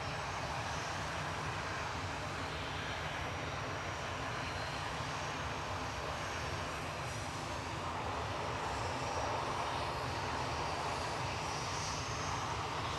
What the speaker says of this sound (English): Aer Lingus A320 heading back to Dublin now, flight 203, EIDJ